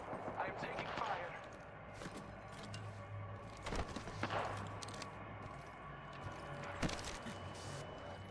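Gunfire in Apex Legends cracks out in several bursts of shots amid a battle, fairly close and loud, with game voice chatter running underneath.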